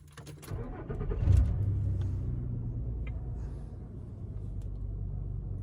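A 2013 Nissan Frontier pickup's engine cranks and catches with a loud burst, then settles into a steady, close, low idle rumble with no one talking.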